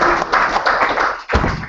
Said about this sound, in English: Round of applause for our friend there.